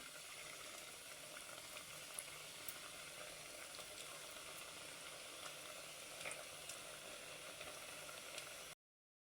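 Biscuits frying in oil over a low gas flame give a steady, quiet, even sizzle that runs unbroken for most of the stretch, with a few faint crackles and pops on top.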